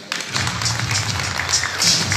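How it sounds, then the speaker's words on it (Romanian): Sustained, dense audience applause at a fashion show in Brăila presenting the Blue Bird collection by Florentina Giol. The clapping stays even and fairly loud throughout, with no voices over it. "Vă rog să ne susținem și cu aplauze."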